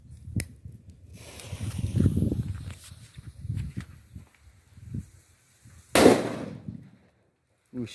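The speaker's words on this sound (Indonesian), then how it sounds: "berikutnya kita nyalakan petasan Colorful Thunder." Fizzing, crackling noise and faint rustles build up as a Colorful Thunder firecracker burns, then a single loud bang erupts near the end, followed by a short sharp pop.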